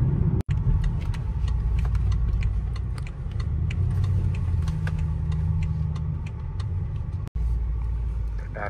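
A BMW car rolls in and keeps driving, giving a steady, close low engine and road rumble throughout with a couple of sharp clicks; no one speaks.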